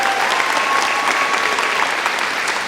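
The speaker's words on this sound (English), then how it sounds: "One more round of applause." Graduation audience giving the Polaris Expeditionary Learning School class of 2020 a loud, dense, continuous round of applause, many hands clapping at once with a steady roar.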